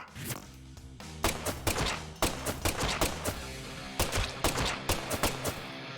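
Gunfire from the video game Deadly Premonition 2: a rapid string of sharp, loud shots in irregular bursts, some doubled, with brief gaps between volleys and no speech.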